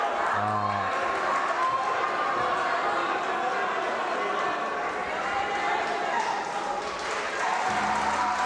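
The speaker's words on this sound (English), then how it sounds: "Well, you can hear the locals cheering for Stefanik." Local spectators at a judo match at the European Youth Olympic Festival in Banská Bystrica cheer for Stefanik. A continuous roar of crowd noise fills the hall throughout, and a commentator's voice breaks in briefly at the start and the end.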